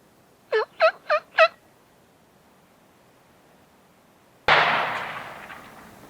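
A wild turkey gobbler in South Texas brush gives four distinct, loud gobbles in quick succession, then after a pause a single sharp, close shotgun blast rings out and its echo slowly fades.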